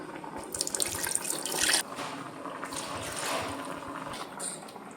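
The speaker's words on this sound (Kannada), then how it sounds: "ಇದ್ರ ಒಳಗೆ ಒಂದು ಸ್ವಲ್ಪ ನೀರು ಹಾಕಿದ್ದು ಮಾಡಿ" Water is poured into a cooking pan of spinach (palak) curry, a close splashing pour that cuts off abruptly after a couple of seconds, followed by lighter trickling and kitchen clatter, no talking.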